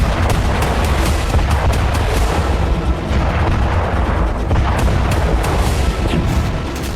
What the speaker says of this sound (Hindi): कुपियांस्क में रूस ग्लाइड बम से हमले कर रहा है।